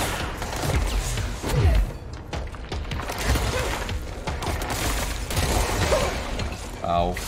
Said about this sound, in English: There's a lot of gunfire.